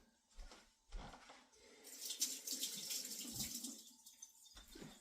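Hands being rinsed under a running kitchen tap during fish meal prep, a steady splashing water flow in the middle of the clip, framed by a few soft knocks and clatters at the sink.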